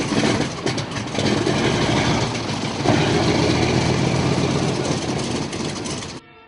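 A P-47 Thunderbolt aircraft's radial engine starting up and running, a loud, steady, dense roar that surges around the third second and continues without pause before cutting off abruptly near the end.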